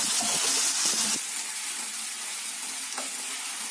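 Grated potatoes sizzle and hiss in a saucepan while a utensil scrapes and stirs briefly at the start, then a steady frying crackle continues.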